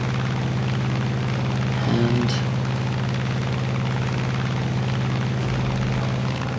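Steady droning propeller engine of an F4U-1a Corsair in War Thunder, a loud, continuous, even hum held throughout with a brief higher tone passing near the middle and a low thump late on.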